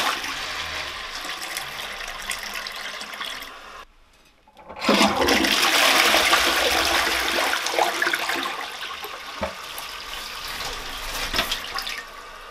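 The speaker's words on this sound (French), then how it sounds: "Donc là, on fait un test chasse d'eau." A toilet is flushed as a test after being unclogged with a drain snake: steady running water, a brief pause, then a loud gushing flush that continues and slowly trails off, with no talking.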